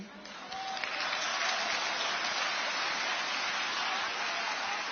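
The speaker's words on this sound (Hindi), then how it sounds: "थोड़ी तालियां कम है पीछे वालों" Audience applause at a live performance erupts after a brief moment and holds as steady, dense clapping from a large crowd, loud and close, continuing without letup to the end.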